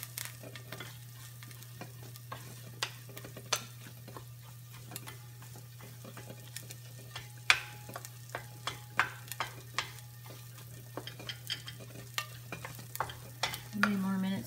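Eggs are stirred and scrambled in a pan, with a steady run of scattered scraping and tapping clicks from the utensil over a constant low hum, fairly close and moderately quiet.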